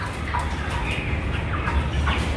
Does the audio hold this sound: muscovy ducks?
yes